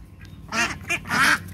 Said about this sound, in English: Hungry, hungry ducklings. And hungry, hungry duck mamas.